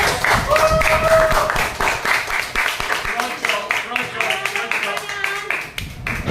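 A school class claps during a maths lesson, with a burst of clapping mixed with children's voices and chatter and uneven taps that thin out toward the end.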